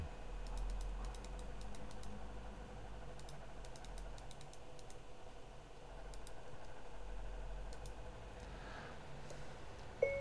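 Computer keyboard typing while writing a Facebook post, quick bursts of faint clicky keystrokes over a low steady hum, with pauses between bursts.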